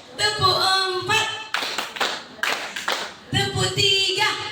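Clustered hand claps from a group of women ring out in a counted pattern, several sharp bursts between a leader's spoken counts, near and moderately loud.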